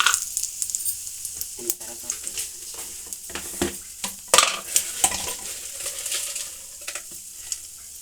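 Peanuts dropped into hot oil for pulihora, crackling and sizzling close up amid irregular clinks and scrapes of a spoon against the pan, with busy, uneven bursts.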